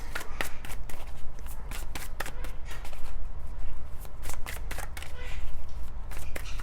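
Tarot cards being shuffled and drawn, a continuous crisp riffling and flicking with quick repeated snaps, close and fairly loud, no voice over it.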